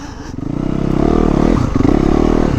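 A sport bike's engine roars and revs loudly up close as the motorcycle slides off road, with a rough, rattling edge and scraping clatter for a few seconds.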